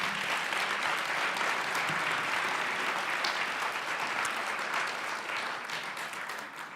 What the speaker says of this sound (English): everyone in the room will show you their appreciation with a big round of applause